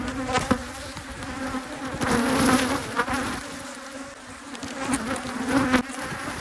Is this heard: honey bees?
yes